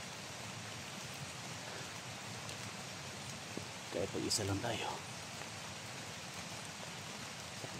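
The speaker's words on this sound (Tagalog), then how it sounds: "Kahit umuulan mga tol." Steady rain falls outdoors as a continuous hiss of drops on surfaces, with someone talking briefly partway through.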